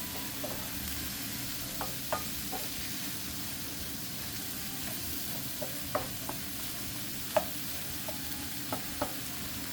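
Ingredients for chicken marsala sauteing in a pan give a steady, even sizzle with occasional sharp clicks of a utensil against the pan, close and continuous, with no talking.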